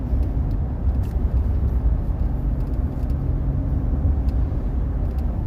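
A 2016 Ford F-150 pickup with a 3.5 EcoBoost V6 rolls along the road, heard from inside as a steady, continuous low rumble of engine and road noise with no talking.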